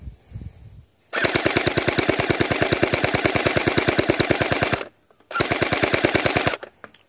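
A G36C gel blaster toy gun fires on full auto in two bursts, a long rapid string of sharp, evenly spaced shots followed after a short pause by a briefer burst, loud and close with no talk.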